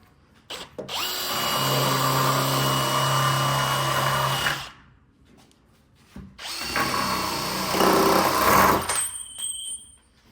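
A CNC machine drills into wood, making two long loud bursts of whirring high-pitched motor and cutting noise split by a brief pause, with a few short clicks at the end.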